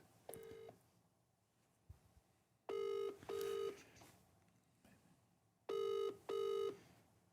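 Quiet room tone, then a short beep followed by two pairs of loud electronic ringing tones, like a phone ringback, spaced a few seconds apart.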